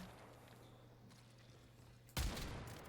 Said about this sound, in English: Make sure I land all my shots.